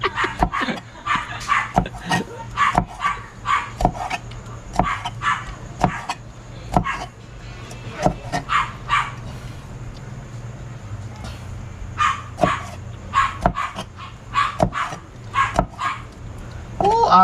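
A dog barks repeatedly in an outdoor neighbourhood setting, loud and fairly close, in uneven bursts of sharp yips and barks over a steady low hum, with people talking at times.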